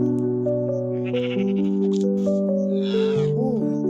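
Sheep bleat a couple of times over a steady synthetic tonal melody, with a brief upward wavering cry near the end.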